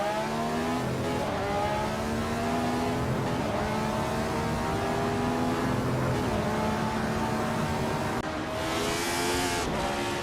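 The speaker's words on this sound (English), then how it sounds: "TBP 71's 15 is driving a Ferrari 312 W22" A Ferrari 312 W22 race car engine roars loudly and steadily through a race, its pitch climbing and falling with gear changes, alongside other racing engines, with a brief shift in tone near the end.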